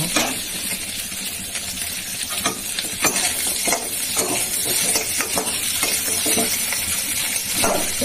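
Chopped vegetables with pumpkin fry loudly in a pan while a metal spatula stirs and breaks them, sharp scraping clicks landing irregularly over a constant close sizzle, no talking.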